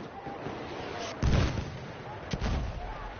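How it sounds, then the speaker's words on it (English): Mortar fire in the video game Frontlines thumps twice at a moderate distance, a heavy boom followed by a sharper second impact over low background noise. "Some mortars in the middle."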